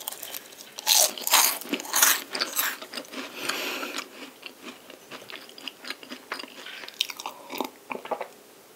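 Close, crisp bites and crunchy chewing of buttery pastries such as palmier carré, strawberry tart and canelé, with irregular flaky crackles, loudest in the first few seconds and softer afterward.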